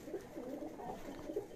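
Indian pigeons cooing in a coop, a soft, continuous, low throaty cooing that swells in two brief louder phrases, close by and without talk.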